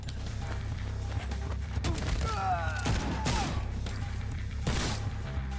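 Several gunshots ring out in a Skyrim parody video game, a few separate booming cracks spaced a second or so apart over a low steady background, with a brief squealing effect in between.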